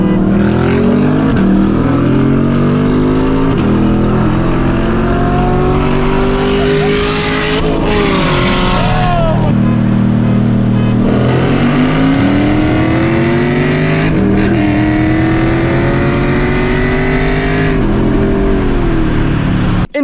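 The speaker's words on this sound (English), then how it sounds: "the C8 is a phenomenal car" A Chevrolet Corvette C8 sports car drives hard, loud engine revving up and shifting through gears with rising and falling pitch sweeps, close and continuous throughout.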